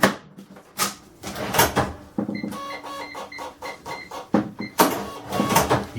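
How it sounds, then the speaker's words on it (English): A Sam4S NR-500 series cash register's built-in printer prints a receipt, producing rapid buzzing bursts of thermal printing, a few electronic beeps and clunks, close and clear, with no talk. "the printer automatically prints a receipt out of every transaction"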